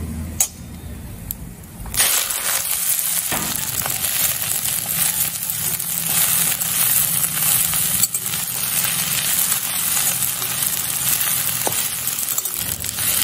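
Chopped jute leaves hit hot oil tempered with broken chili and whole cumin, and a loud, steady sizzle rises at once and keeps crackling with small stirring clinks.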